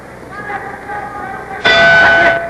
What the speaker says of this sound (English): there's the bell ending round 4